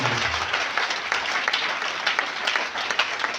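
A church congregation at Eglise Golgotha in Ouenzé applauds in worship, producing dense, continuous clapping that fills the room at steady volume with no pauses.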